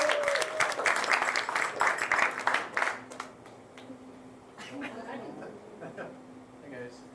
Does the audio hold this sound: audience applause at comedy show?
yes